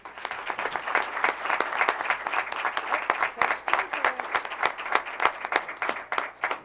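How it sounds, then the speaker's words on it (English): Audience applause at a school board of education meeting, a steady wash of many hands clapping that fills the room for several seconds with no speech over it. "Okay, big round of applause."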